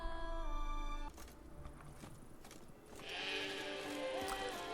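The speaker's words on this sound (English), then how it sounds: "And your sheep is kind of running away there." Sheep bleat in a video game, The Witcher 3 with the W3EE mod, with a shepherd nearby: a few wavering bleats stand out over a steady game ambience, fairly close and without speech.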